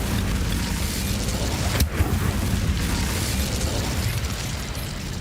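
In Hogwarts Legacy, the Incendio fire spell gives a brief sharp burst in the middle of a continuous roaring wash of game noise, with no talking.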